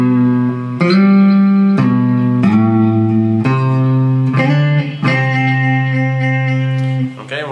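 Guitar riff for a song, a phrase of sustained plucked chords and slides changing every second or so, loud and alone with no talking.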